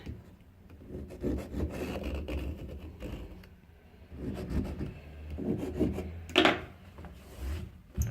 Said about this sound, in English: I'll just go over that bit with my blade, and my blade will pick up any of the gunk that's still on there